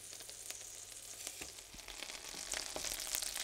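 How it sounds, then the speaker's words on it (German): Banana halves fry slowly in fresh butter, a soft steady sizzle with crackling pops that grows slightly louder and busier over the few seconds. "Und in frischer Butter langsam gebraten."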